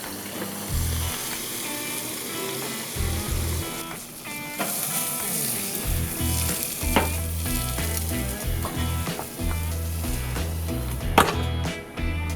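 Asparagus sears in a very hot oiled pan, a steady sizzle and frying hiss with occasional stirring that runs through the whole stretch beneath louder background music.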